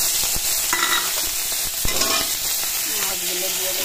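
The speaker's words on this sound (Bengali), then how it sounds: "তেল দিয়ে নেব। কাঁচা লঙ্কাটা দিয়ে দেবো" Green chilies sizzle and crackle in hot oil in a pan, with stirring scrapes and clinks over the continuous frying hiss, close and without speech.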